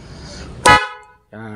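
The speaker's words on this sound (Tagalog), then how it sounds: "So meron na tayong dual horn." A single loud motorcycle dual horn blast, sharp and brief, cutting in after a stretch of talk-like sound, followed by a quiet pause and then more voice.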